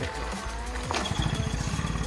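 A vintage Peugeot 102 moped engine pedal-starts and catches, settling into a rapid putter whose firing pulses grow steadily louder near the end.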